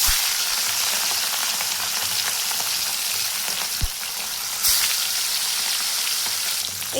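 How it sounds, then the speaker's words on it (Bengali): Pieces of katla fish fry in hot mustard oil in a wok, a loud, dense, continuous sizzle like heavy rain with an occasional faint knock. "তেল গরম হয়ে গিয়েছে, তাই এখন আমি এর মধ্যে একে একে মাছগুলোকে ছেড়ে দেব"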